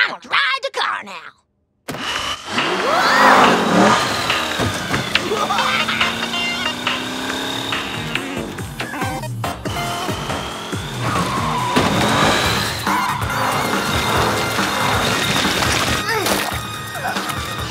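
A cartoon car from a Rugrats episode revs its engine in rising and falling whines, with tire squeals and skidding over a busy mix of effects and music, after a short pause near the start and with voices speaking in places.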